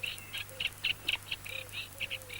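A female cuckoo gives her bubbling call, a quick series of rapid, liquid notes repeated about a dozen times in short bursts, fairly close and clear over a faint low background hum.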